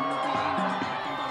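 Fans cheer for the player who has just won his sixth Paris Masters tennis trophy, a steady, dense crowd roar carrying through the whole short stretch.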